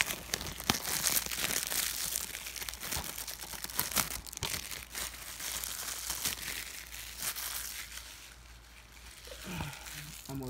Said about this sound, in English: it was just to open the plastic. The new game plastic.